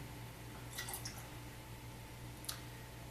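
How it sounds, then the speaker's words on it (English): Lime juice drips into a margarita cocktail: a few faint, brief liquid drips and squishes, one cluster early and a single clearer drop later, over a quiet background hum. "1/2 ounce of the lime juice. Drip, drip, drip, drip, drip."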